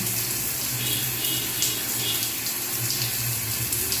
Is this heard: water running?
yes